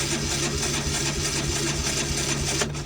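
A small engine on a cold start with a broken choke, one of several vehicles including a Jeep, truck and four-wheelers, runs with a steady rough mechanical drone and faint rhythmic ticking throughout, close and fairly loud.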